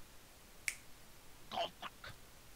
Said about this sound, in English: I did just snap my fingers.